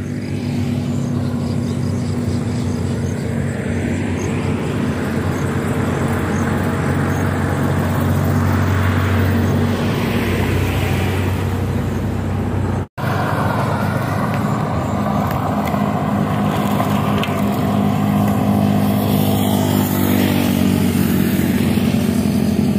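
Highway traffic streams past on the Tansa bypass, vehicles whooshing by close and loud in a continuous rushing roar with swelling passes, broken by a brief cut midway.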